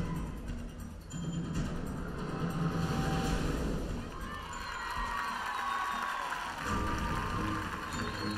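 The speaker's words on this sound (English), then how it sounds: "The crowd always appreciated these highlights." Audience cheering and applauding at an artistic swimming team combination final at the FINA World Championships in Budapest, a steady, loud crowd roar with scattered shouts sustained throughout.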